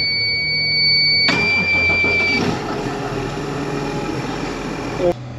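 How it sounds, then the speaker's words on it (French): A self-propelled crop sprayer on a farm, its engine cranking into life with a sudden rise then settling into a steady mid-pitched idle under a beeping tone, with a voice speaking over it. "on va démarrer l'automoteur"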